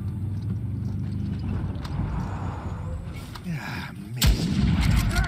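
Loud booming gunshots, including a sniper rifle, ring out in Uncharted 4 amid continuous background rumble and clatter, a couple of sharp blasts near the end.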